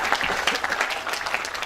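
An audience at an afternoon startup incubator talk claps for the speakers, brisk, steady applause filling the whole short stretch.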